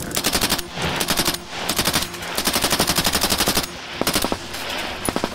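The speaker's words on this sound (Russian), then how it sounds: "Канонада взрывов у окопов и стрельба из пулемета сливается в один монотонный звук – хаос войны." Rapid machine gun bursts rattle in repeated strings, loud and close, separated by brief gaps, with a rumbling wash of shell explosions near trenches underneath, in real combat at Avdiivka, Ukraine.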